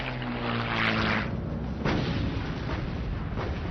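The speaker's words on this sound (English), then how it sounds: "Laffey's 5-inch guns quickly open fire." A destroyer's 5-inch naval guns fire at an approaching dive bomber, heavy booming blasts over a continuous rumble of engines and battle noise, loud and dense throughout.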